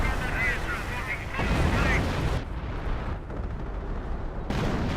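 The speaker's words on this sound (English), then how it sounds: "Hidden barrage there" In a Company of Heroes World War II strategy game battle, an artillery barrage lands as a dense rumble of blasts and booms. Heavy and continuous at first, it briefly thins before another burst strikes.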